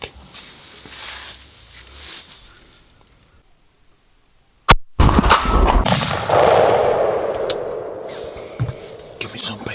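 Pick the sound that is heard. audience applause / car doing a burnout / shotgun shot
shotgun shot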